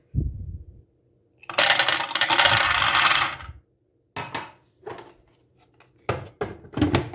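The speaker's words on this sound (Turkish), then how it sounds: "İlk olarak bir su bardağı kadar çiğ fındığımızı robottan çekerek un haline getireceğiz." A food processor grinds about a cup of raw hazelnuts into flour, with a sustained loud whirring run followed by several short, choppy pulses separated by silence.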